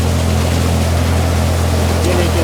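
A tractor-driven Vallabh Sumani multicrop thresher runs with a loud, steady, broadband mechanical roar and rumble, continuous and near, with no let-up throughout.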